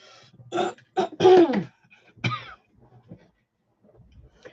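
A person who swallowed coffee wrong coughs and clears their throat in several close, sharp bursts separated by brief pauses, then breathes quietly afterward.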